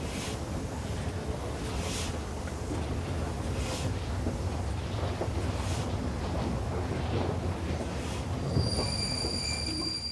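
A train leaves a station in the Regordane line region, rolling with a steady low rumble and high, sustained wheel squeals rising near the end.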